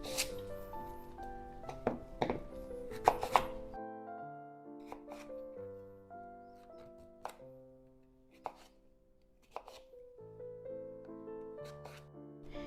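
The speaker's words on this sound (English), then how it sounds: "So let's get this turnip chopped." A knife chopping a turnip for Portuguese vegetable soup, heard as a series of separate cutting knocks spaced a second or two apart, set against steady background music.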